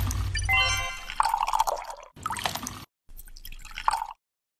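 Water poured into an empty plastic drink bottle, a gurgling, splashing fill that breaks into a few short bursts with brief pauses, fairly quiet and close, with no talking.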